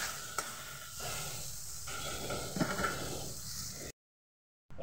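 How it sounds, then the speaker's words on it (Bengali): Chopped tomatoes with salt and spices sauté in a pan for a Bengali rohu fish curry, making a quiet, steady sizzle with faint scraping stirs, then breaking off into brief silence near the end. "এবার আমি মশলার সঙ্গে টমেটোটাকে কষিয়ে নেব"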